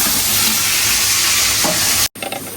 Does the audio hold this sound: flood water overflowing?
no